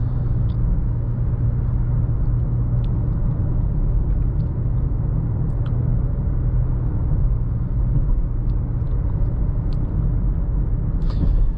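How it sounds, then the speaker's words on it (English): A 2023 Nissan Rogue SV engine drones steadily from inside the cabin while driving, a constant low rumble with road noise that stays even and unbroken throughout. "Engine does sound a little strange. I'm not crazy about this engine note."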